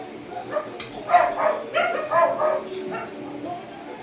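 A dog yips and whines in a run of short, excited barks over a noisy background, with voices faintly mixed in.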